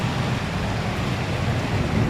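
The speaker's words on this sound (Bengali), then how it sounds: "প্রচুর পরিমাণে ঝড় বৃষ্টি হচ্ছে।" Heavy rain pouring in a storm, a loud continuous hiss of dense rainfall with a low rumbling undertone, steady and close throughout.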